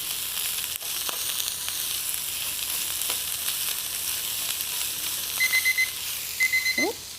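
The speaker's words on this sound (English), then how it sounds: "That was my timer for the oatmeal" A kitchen timer set for oatmeal beeps in short repeated bursts near the end, over the steady sizzle of shallots and jalapeño frying in a pan.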